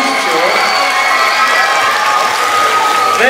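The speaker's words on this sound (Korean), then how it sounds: "우리 장에서 네트미게 여러분들 박수 많이 좀 보내주십시오." Audience applause mixed with cheering at a youth dance contest award ceremony, a dense steady wash of clapping from a crowd that continues for the whole stretch.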